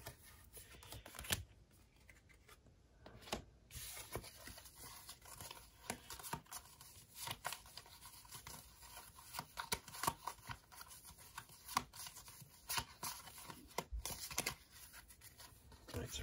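Initiative cards for the Bardsung board game are shuffled by hand at a table, with soft rustles, crisp flicks and occasional sharp clicks over about sixteen seconds. Quiet talk is heard in places.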